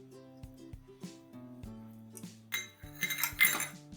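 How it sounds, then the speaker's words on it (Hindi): Chopped cashews and almonds tipped into churma for ladoos, a series of bright clinks and taps of a metal spoon against a vessel, scattered and fairly close, with no talk. "अब हम इसमें ये बारीक किए हुए ड्राई फ्रूट्स डालते हैं।"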